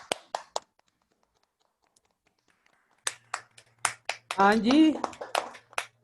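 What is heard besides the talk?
group applause in a Zoom class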